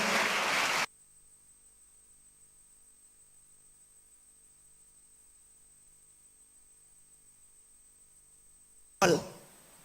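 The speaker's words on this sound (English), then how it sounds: "I want to ask you for a big applause for yourselves for having come here." A brief burst of loud audience applause at the start of a conference dialogue session, a long stretch of near-silence with a faint steady hum, then applause breaks out again at the end.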